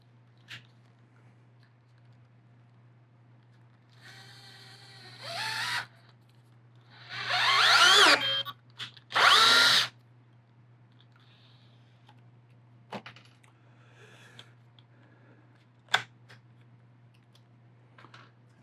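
Festool C18 cordless drill driving a screw, with a few short bursts of whirring motor rising over a quiet room and separated by gaps, plus scattered clicks and taps.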